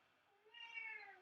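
A single cat meows once, a rising then falling tonal cry lasting under a second, fairly quiet and alone against near silence.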